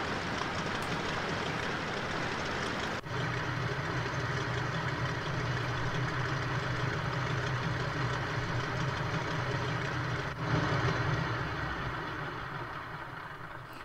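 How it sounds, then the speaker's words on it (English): The engine of a Nakajima B5N2 Kate torpedo bomber idling in Microsoft Flight Simulator, a continuous droning hum with a shift in tone near three seconds and a swell before fading slightly at the end. "Let's stop the engine."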